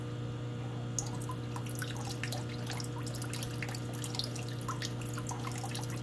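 Water flows and trickles through the cooling system of a 60 watt CO2 laser tube, faint splashing and dripping over a steady low pump hum.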